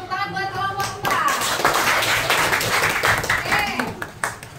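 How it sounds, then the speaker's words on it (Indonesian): A classroom of students clapping for a group after its presentation, a brisk burst of close hand claps with voices talking over it. "Tepuk tangan buat kelompok 4."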